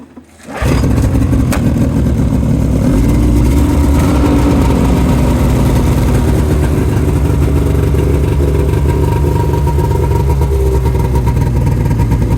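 A 2001 Ski-Doo MXZ 600 snowmobile engine catches after a brief start and settles into a loud, steady close-up idle with a rough two-stroke burble that runs unbroken to the end.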